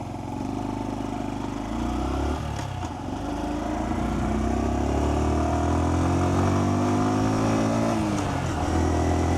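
A motorcycle engine hums steadily during a ride, rising and falling in pitch as the rider accelerates, loud and close for the whole stretch.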